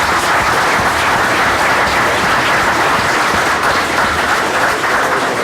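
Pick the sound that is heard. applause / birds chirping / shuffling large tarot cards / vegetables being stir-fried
applause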